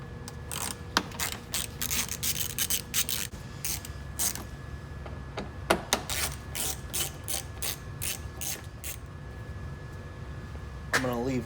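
Ratchet wrench clicking as it backs out T30 Torx bolts along the top of a BMW 335xi front bumper, a run of rapid pawl clicks in bursts with short pauses, close and fairly quiet.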